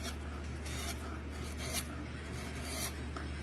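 A freshly sharpened hand tool catches and shaves wood in a woodworking shop, making soft, close scraping and rasping strokes that repeat in short bursts over a faint steady background hum.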